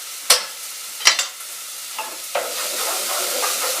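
Garlic frying in a pan for carrot soup: a steady, bright sizzle with a few sharp scrapes or taps of a utensil near the start, close and continuous, no talking.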